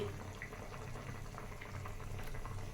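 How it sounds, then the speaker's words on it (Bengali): Egg curry simmers in a pot on a home stove, a steady close bubbling and gurgling of boiling liquid with small pops throughout and no talking. "ডিমের ঝোল হচ্ছে"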